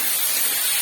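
Chopped tomatoes sizzle in a pan with a vetki fish head, a brief, close, steady hiss.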